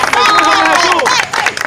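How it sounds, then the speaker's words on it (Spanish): Crowd at a reunion of former students applauding loudly and close, a dense burst of clapping with cheering voices mixed in, tapering at the end. "Aplauso."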